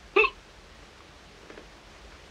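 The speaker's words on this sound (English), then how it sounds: "I have the hiccups." A single sharp hiccup rings out close and clear in a quiet room from a man in a 1940 film scene, followed by faint soft rustling and near silence.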